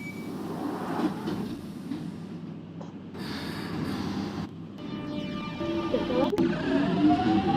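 London Underground Jubilee line train in the OpenBVE simulator game, a quiet rumbling ride with a shift in tone midway and rising, whining motor tones toward the end.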